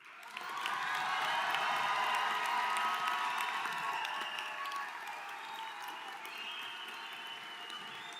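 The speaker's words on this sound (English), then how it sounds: "Ladies and gentlemen, one more round of applause." Crowd applause at a college commencement ceremony swells in within the first second and holds as a broad, sustained roar of clapping before thinning somewhat, with scattered cheers mixed in.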